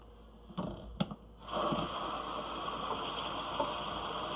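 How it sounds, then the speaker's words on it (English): Water rinsed from and poured off seitan dough, a few sloshing knocks followed by a continuous pouring gush into a sink, alone without talk. "keep rinsing and emptying the water until it's almost clear"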